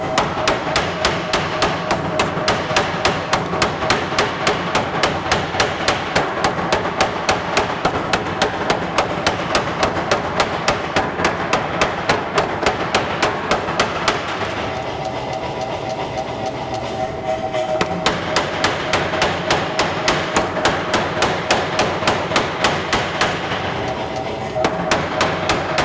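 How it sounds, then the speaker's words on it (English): A power hammer pounds hot steel while forging a pair of tongs, striking in a fast, relentless mechanical rhythm for nearly the whole stretch, with a short pause midway before the blows resume. "The steel's actually going to heat up as I hammer it."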